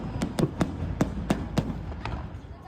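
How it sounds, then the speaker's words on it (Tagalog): A fireworks display at an outdoor family event in Qatar pops in a series of about eight sharp bangs at irregular intervals, moderately distant, over a murmuring crowd. "Yan yung fireworks guys."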